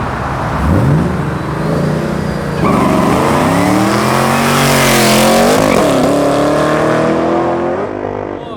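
A twin-turbo Lamborghini Gallardo with about 1,000 horsepower on Hoosier tires launches hard, engine revs climbing through several gear shifts in one long, loud, close roar.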